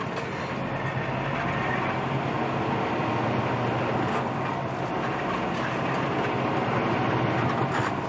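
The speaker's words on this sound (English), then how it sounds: "Rock Island trains." A steady rumbling roar of Rock Island freight trains rolling past, with faint metallic squeals and clanks over the continuous low noise.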